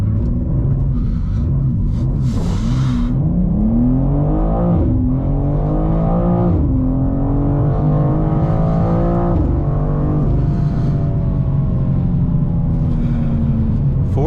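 BMW M2 launching hard from a brake-torque start in a drag run on a public road, the engine rising in pitch through several gears with brief dips at each shift, loud and close from inside the car.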